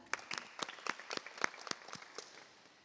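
A short burst of scattered clapping from a small audience for a student panel, a few dozen claps tapering off over about three seconds, moderately distant.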